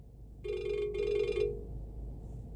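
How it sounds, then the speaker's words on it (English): A telephone rings once in a quiet room, a near, electronic two-part trill with a brief gap, then fades as the room falls still again. "my phone is ringing"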